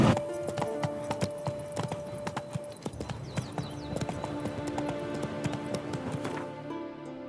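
Roach, Geralt's horse in The Witcher 3, clip-clops along in a steady run of hoof strikes, fairly close and loud over a busy game soundscape, with a brief whinny.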